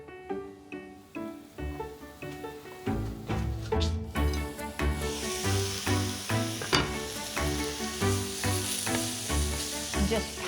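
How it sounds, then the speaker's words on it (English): Two onions fry in a curry pan with a loud, close, continuous sizzle that rises and falls in pulses. "Throw 2 onions into the same pan so that they will absorb all the flavours."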